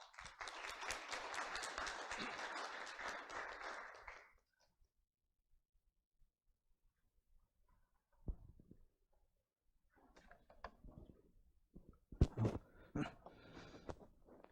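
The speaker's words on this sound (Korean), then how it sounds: "큰 박수로 맞아주시기 바랍니다." Audience applause at a corporate results presentation, loud and dense for about four seconds as a presenter is welcomed, then fading into quiet room sounds with a few scattered knocks and shuffles.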